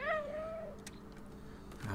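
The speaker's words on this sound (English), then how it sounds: "They don't respond to my meows." A cat meows in the video game Stray, one clear, close call sliding downward, followed by soft in-game background sounds and a faint low murmur.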